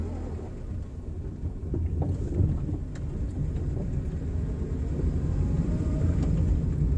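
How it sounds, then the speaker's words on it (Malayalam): A car pulling away in first gear on a narrow road while practicing tight turns: a steady low engine rumble with a faint drone, continuous and fairly close, with no voices. "ഞാൻ ഫസ്റ്റ് ഗിയർ കൊടുത്ത് വണ്ടി മുന്നോട്ടെടുക്കുന്നു"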